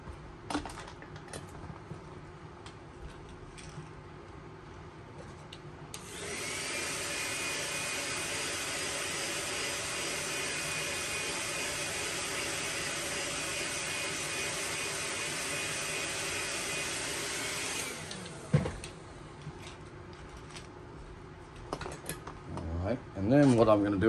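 A heat gun heat-setting paint on a fishing lure blows with a steady, bright hiss that starts suddenly, holds for about twelve seconds, then stops, with faint handling clicks before and after.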